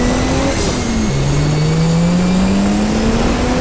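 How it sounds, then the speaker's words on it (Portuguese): Rocket-propelled Oppressor hoverbike from a modded GTA V, its turbine thrust holding a steady, loud droning roar that shifts pitch partway through, continuous with no pauses. "Solta a turbina aí que ele sai do lugar."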